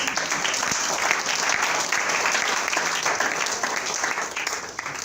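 A church congregation claps in continuous, dense applause at a worship service, a steady crowd sound filling the room without a break for several seconds.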